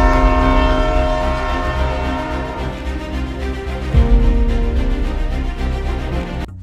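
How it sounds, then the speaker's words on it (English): A model train runs on a home layout, sounding a loud, sustained horn-like tone with steady harmonics over a low rolling rumble and no voices. "it's always great to put a new train on the layout and just have some fun with it"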